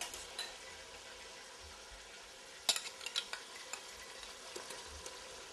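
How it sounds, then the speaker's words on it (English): Potatoes fry in hot olive oil in a wide pan, a quiet steady sizzle broken by a few sharp clinks and scrapes of a utensil. "as the olive oil gets hot, it'll get to a frying consistency where we can actually deep fry our potatoes a little bit"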